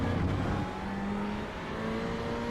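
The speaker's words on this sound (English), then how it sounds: "a nice sounding car that is going through the gears in the final section of this" A Ferrari GTE race car in a sim racing game at Le Mans, its engine note steady and loud. The pitch drops once early on, like a gear change, then it holds a smooth, continuous drone.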